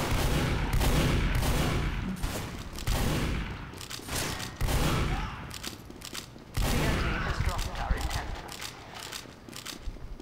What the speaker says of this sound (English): I can't shoot for shit with the scatter gun.